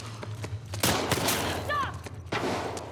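Gunfire in The Last of Us Part 2 on PS5 rings out as several sharp shots over tense shouting, with loud impacts echoing close by.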